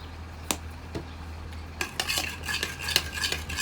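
A spoon stirs and mixes ingredients with paprika in a pot, giving scraping, clinking strokes that grow busier and more continuous toward the end, close and with no talk.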